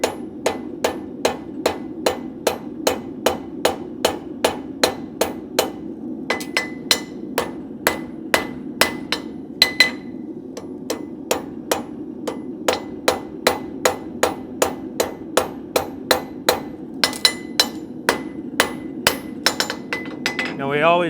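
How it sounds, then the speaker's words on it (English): A farrier's hammer strikes steadily down on a horseshoe while the shoe is lifted, ringing metallic blows repeating about twice a second, loud and close, with brief pauses and a few quicker bursts. "I'm going to be lifting my shoe as I'm striking straight down with my hammer."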